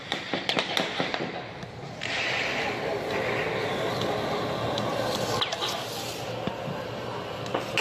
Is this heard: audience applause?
no